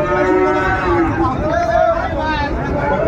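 Sahiwal cattle at a Comilla cattle market give a drawn-out low moo amid steady crowd chatter and people talking nearby.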